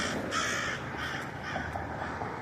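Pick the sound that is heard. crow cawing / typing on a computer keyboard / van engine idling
crow cawing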